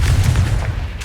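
A Confringo blasting spell in Hogwarts Legacy, a single heavy booming explosion with a deep rumbling tail, loud and close, no voices.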